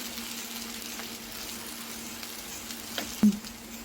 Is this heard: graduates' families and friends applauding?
no